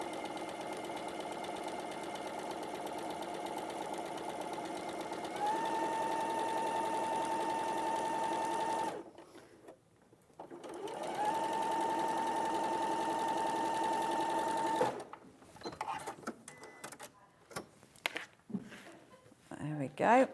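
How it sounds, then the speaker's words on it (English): Domestic sewing machine stitching mesh fabric in two sustained runs, a steady whirring hum lasting a few seconds each with a short pause between, followed by clicks and handling noises. "I'm going to get that into place, and we'll stitch it"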